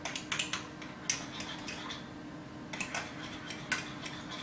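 A spoon stirs a heated lotion mixture in a container, giving a few faint, sparse metallic clinks and taps over a quiet background.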